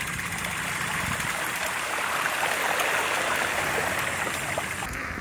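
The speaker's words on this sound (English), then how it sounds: "Water crossing." Steady broadband rush of rain-fed water at a flooded pond crossing during a bike ride, a continuous splashing stream sound held at even loudness throughout with no talk.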